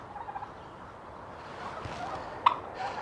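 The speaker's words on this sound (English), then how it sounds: "There's some turkeys." Turkeys gobble outdoors on an overcast December walk near Porthcawl, with faint bursts early on, a sharper nearer gobble midway and more calls at the end, all over a soft background hiss.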